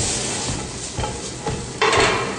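Onion and garlic sautéing in a pan for fish fillet a la diabla, a steady broadband sizzle with occasional stirring scrapes and a louder burst of frying near the end, close and without speech.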